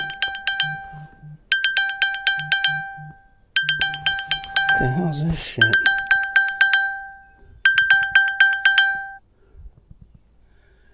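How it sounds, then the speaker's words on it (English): A phone's Find My Phone alert rings out in loud repeated bursts of bright chiming tones, several rounds with short pauses, on a trail walk near a tunnel; someone speaks briefly over the middle of it. "Find my phone alert. I must have hit some button."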